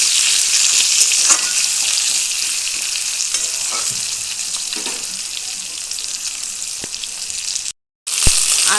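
Potatoes and vegetable stalks sizzling in hot oil in a pan, a steady bright frying hiss with occasional clinks and scrapes of stirring, and a brief dropout near the end.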